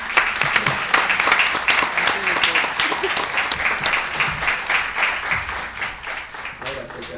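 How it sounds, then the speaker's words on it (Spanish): After a question session at an academic lecture, an audience breaks into applause, a rapid stream of distinct claps that is loud at first and gradually thins, with a voice briefly heard under it. "Un aplauso, por favor."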